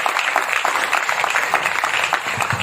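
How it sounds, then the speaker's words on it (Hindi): Dense applause from a crowd at a SAFE SHOP Friday training session: steady, close clapping that fills the whole stretch without a break. "आप सारे लोग डिसिप्लिन में एक बार फिर से ताली बजाए प्लीज"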